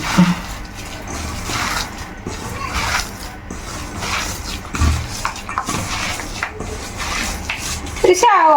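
Hands knead a parippu vada mixture of dal, ginger, green chilli, shallots and curry leaves in a bowl, a wet, squelching, rhythmic mashing with occasional vessel knocks, under talk.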